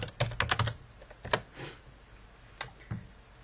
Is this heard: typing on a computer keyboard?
yes